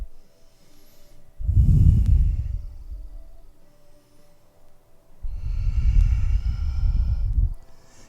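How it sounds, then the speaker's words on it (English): Two slow, deep breaths during a yoga balancing pose, each a long, close, airy rush of air through the nose separated by quiet pauses. "Just a couple more breaths here."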